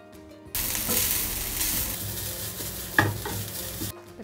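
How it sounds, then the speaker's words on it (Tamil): Grated coconut and cashews roasting in a little ghee in a pan, a steady close sizzle with a sharp metallic scrape partway through, starting and stopping abruptly. "இதோட இது ஆறுறதுக்குள்ளே நம்ம தேங்காவை வந்து வறுத்துக்கலாம்."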